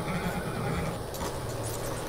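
A horse in the video game Red Dead Redemption 2 whinnies and snorts amid hoof clatter, with a steady background hum; moderately loud and close.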